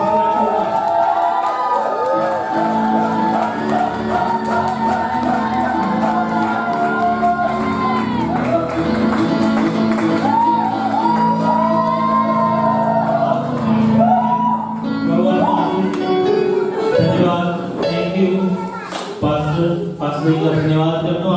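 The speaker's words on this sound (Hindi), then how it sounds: "इस मैसेज के लिए जोरदार ताली के साथ वेलकम करेंगे" A church audience gives a loud welcome at a pastor's service, with sustained cheering, whooping and shouting from a crowd that goes on continuously for about twenty seconds.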